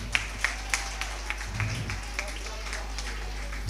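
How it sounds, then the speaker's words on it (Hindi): Audience applause for the chief guest at an Independence Day celebration and talent show, a few distinct claps that swell into steady clapping over a low hum while someone talks. "Big round of अप्लॉड everyone."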